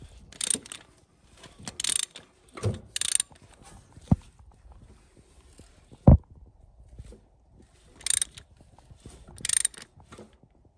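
A ratchet turns the crankshaft of a 2.4L Ecotec four-cylinder engine in several short bursts of clicking pawl action, separated by pauses, with a couple of sharp knocks in between.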